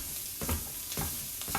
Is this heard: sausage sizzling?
yes